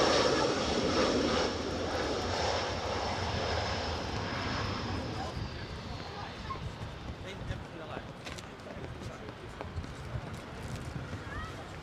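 A two-seater military trainer jet passes near RAF Lakenheath as a broad, loud roar that slowly fades over several seconds, with people talking in the background.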